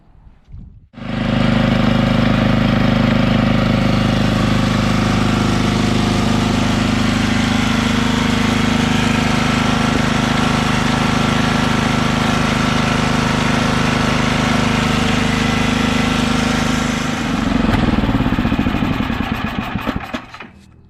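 Tecumseh 5HP engine on a Troy-Bilt wood chipper vacuum starting up and running at a steady loud drone, close by, then its pitch falters and sputters near the end as it winds down, with no talking.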